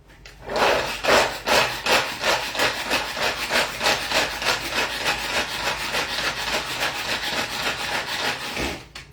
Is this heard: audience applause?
no